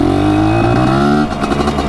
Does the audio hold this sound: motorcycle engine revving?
yes